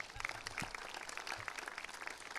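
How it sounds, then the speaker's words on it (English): Audience applause for a speaker at a Long Island Manufacturing Day event, a dense, fairly faint wash of many hands clapping steadily throughout, with a few low thumps mixed in. "Another round of applause for Derek."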